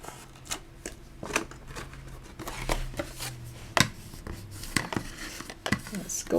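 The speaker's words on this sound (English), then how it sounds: "I can take my tape runner, add some tape, and fold this in." A tape runner lays adhesive on card stock and the paper is folded in for a mini tea caddy craft, heard as close, scattered clicks, rustles and soft crinkles at an uneven pace.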